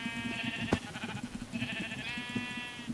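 Sheep in the video game Minecraft bleat in quick succession, two or three wavering, nasal calls close by with a sharp click between them and no talking.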